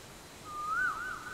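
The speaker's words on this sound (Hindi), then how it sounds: "ये तो कोयल की आवाज है। इसकी आवाज कितनी रोमांटिक है ना।" A koel, the Asian cuckoo, calls once outdoors in a scenic spot: a soft, fairly faint whistled note that rises, dips and rises again over about a second, with no talking.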